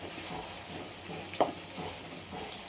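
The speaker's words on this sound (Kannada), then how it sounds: "ಚೆನ್ನಾಗಿ ಡ್ರೈ ರೋಸ್ಟ್ ಆಗೋವರೆಗೂ ಎಣ್ಣೆಯಲ್ಲೇ ಫ್ರೈ ಮಾಡಿ ತೆಗಿಬೇಕು" Bitter gourd fries in oil in a pan, giving a soft, steady sizzle with one brief clink or scrape of a utensil midway.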